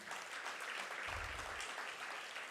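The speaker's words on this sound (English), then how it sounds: "So round of applause to Eugene." An audience at a Youth Day event gives a round of applause, steady dense clapping filling the whole stretch at moderate distance, with a brief low thump partway through.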